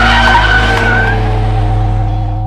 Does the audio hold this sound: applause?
no